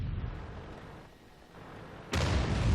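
Artillery shell fire in the tank game World of Tanks: a low rumbling boom that fades into a quieter lull, then a sudden loud blast near the end that stays heavy and close.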